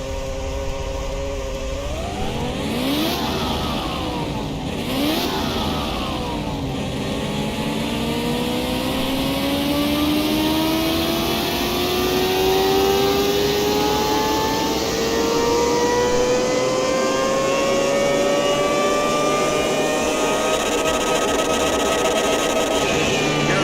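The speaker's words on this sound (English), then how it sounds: "Very cool sound of this this engine, this V12." V12 car engine in Car Mechanic Simulator 2021 revving on a dyno: a couple of quick rising blips, then one long steady climb in pitch as the engine winds up, loud and continuous with no talk.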